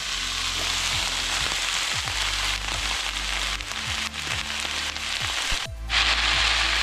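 Pork sautés in a pan for a Hawaiian-style dish, a loud continuous close sizzle punctuated by occasional stirring scrapes and clinks, with a brief dip before the frying surges again.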